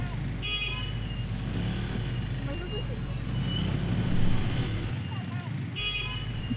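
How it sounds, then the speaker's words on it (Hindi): Busy street traffic in Rawalpindi's Raja Bazar, a steady wash of passing cars, buses and engines with scattered horn toots, heard from foot level while people talk nearby. "बाहर ट्रैफिक तो बहुत है"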